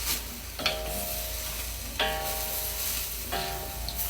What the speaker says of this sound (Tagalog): Haluin lang natin to.